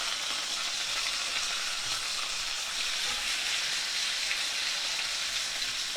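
Pork chops frying in a pan over heat that is too low to brown them, giving a steady, even sizzle and hiss with no breaks and no voices.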